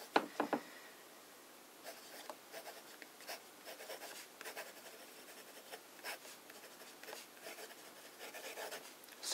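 Fountain pen with a medium nib writing on paper, faint close scratching strokes in irregular bursts, quiet and alone.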